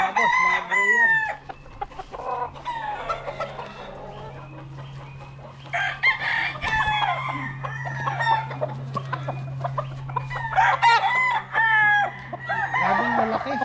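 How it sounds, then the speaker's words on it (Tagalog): Gray gamecock stags crowed with imported stock crow and cluck repeatedly nearby, several birds overlapping in bursts over a steady background hum, with no talking. "Ito yung mga stag natin yan."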